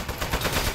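Turret gunfire in the video game Low Paying Job Simulator, a short, loud burst of rapid shots with no talking.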